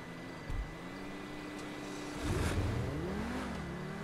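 Pegassi Tempesta supercar engine in GTA V Online, a steady mid-loudness drone with a brief bump early on and a louder rev swell midway that rises and eases off, no talking.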